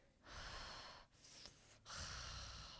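A person imitates noisy nasal breathing, two long rasping snorting inhales and exhales, close to the microphone with no talking.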